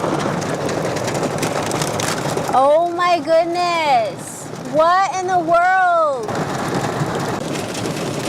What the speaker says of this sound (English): Okay, I did not think that it was supposed to rain right now.